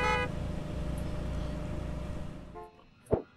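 Car horns honk at a simulated gas station, a sustained blaring horn up front that cuts off, followed by a brief second toot and a sharp knock, under a running engine hum.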